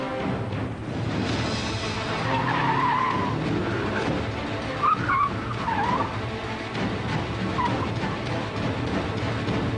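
A Mitsubishi Evo 6 engine revs hard and pulls away with tyre noise, loud and close, with squeal-like bursts over a steady engine roar.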